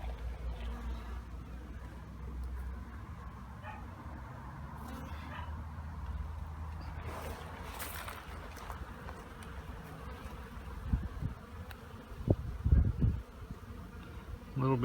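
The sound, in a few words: honeybees buzzing during beehive inspection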